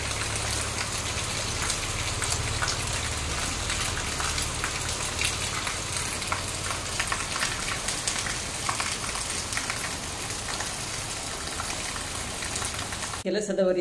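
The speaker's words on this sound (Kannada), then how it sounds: "ಇವಾಗ 11 ಗಂಟೆಯ ನಂತರ ಮಳೆ ಬರ್ತಾ ಇದೆ." Heavy late-morning rain pours down steadily, a dense, continuous hiss of drops on surfaces that stays loud and even from start to finish.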